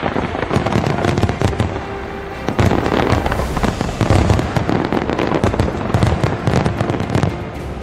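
Dense, continuous crackling and popping of fireworks at an inauguration ceremony in Virginia, loud bursts overlapping in rapid succession with a brief lull partway through.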